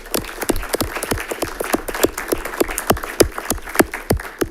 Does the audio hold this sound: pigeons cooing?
no